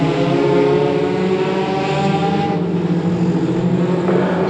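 Micro banger race cars roar around the Cowdenbeath racewall oval, engines loud and close in a sustained harmonic drone, one car's note dipping and shifting as it passes.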